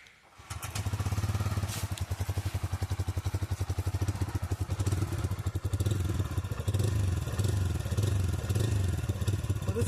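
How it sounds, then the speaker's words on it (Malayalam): Bajaj Freedom 125 motorcycle running on CNG, its engine starting after a brief crank and then settling into a close, steady single-cylinder exhaust putter with light mechanical clatter, no talking. "ഞാൻ നിങ്ങൾക്ക് ഇതിൻ്റെ എക്സോസ്റ്റ് നോട്ട് എങ്ങനെയാണെന്ന് കാണിച്ചു തരാം"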